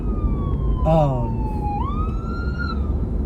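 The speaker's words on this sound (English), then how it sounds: "an ambulance just passed by" Emergency vehicle siren passing on the street, its wailing tone sweeping down and back up as it goes by, heard over steady road and car noise with a brief voice near the start.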